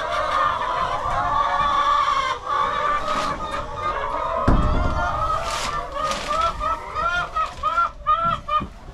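Chickens in a farm barn cluck and squawk close by, with a dense flock of overlapping calls that turn into rapid rhythmic clucks toward the end, plus a brief thump midway.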